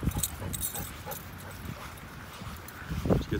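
A dog out on a park walk reacts to another dog passing by, giving short whimpers and yips in scattered bursts, fairly faint, over outdoor background noise and light footsteps.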